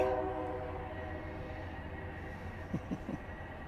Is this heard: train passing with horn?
yes